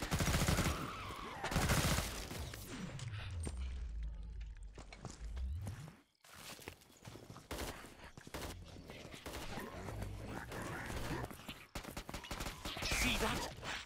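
Dense volleys of Gunslinger gunfire in Killing Floor 2 crack and rattle almost nonstop, loud and close, broken by one brief lull midway, with game sounds and voices mixed throughout.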